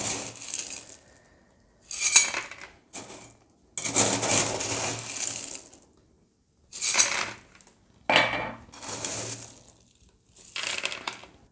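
Clay pebbles pour into a plant pot during repotting of a Monstera, coming in several bursts of loud rattling and clattering separated by short pauses.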